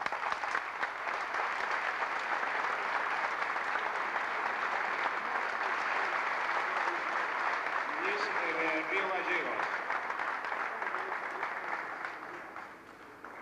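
Sustained audience applause at a 1998 tribute to racing figure A. Parga at the J. M. Fangio Museum, dense and steady throughout before tapering at the end, with a voice briefly speaking over it.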